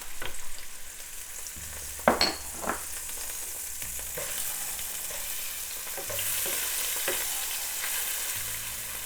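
Seeds and spices sizzling in hot ghee for a jackfruit curry, a steady hissing fry close by with a few sharp spatters and utensil clinks, no voices.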